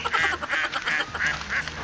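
Ducks quack in a rapid series of about five loud, nasal calls, close by and evenly spaced, with no talk over them.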